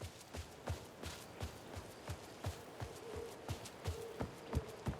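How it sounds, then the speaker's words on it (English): Heavy, chunky footsteps tread across wet, rain-soaked ground in the video game Alan Wake 2, a steady walking rhythm of close thuds over a low ambient background. "Got some chunky footsteps here."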